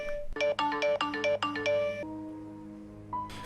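A mobile phone that has just been switched on sounds a rapid series of bright electronic chime notes, then a sustained tone fades, followed by another short chime; fairly quiet and without voices.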